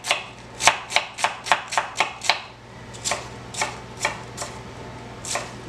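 A knife chops through a piece of fish for fish tacos, sharp cutting-board knocks in a quick run of about eight, then slower spaced strokes, close and clear.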